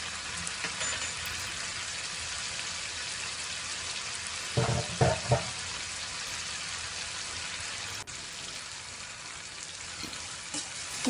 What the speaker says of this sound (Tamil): கரண்டியால் முள்ளமாக டொமேட்டோவை கொஞ்சம் அங்கங்கே க்ரஷ் பண்ணிகிட்டே இருங்க